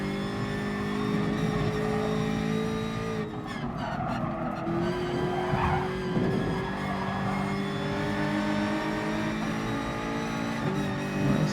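A BMW GR.4 race car in Gran Turismo Sport drones at high revs with a steady, tonal engine whine, its pitch shifting with gear changes, while tires squeal and skid briefly through corners; no voices.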